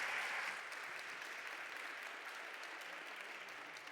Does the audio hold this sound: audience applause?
yes